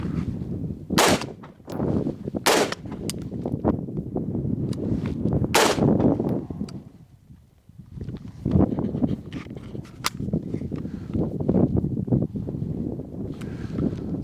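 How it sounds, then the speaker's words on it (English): Shots from a Global Ordnance Monolith firearm crack out several times outdoors, loud and sharp, with wind noise buffeting the microphone between them. "So far, I'm actually, it shoots nicer than I expected it to."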